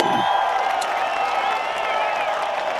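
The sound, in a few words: audience applause for contestant Kelly Murphy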